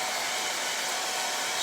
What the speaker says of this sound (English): Look at me hitting it with my dryer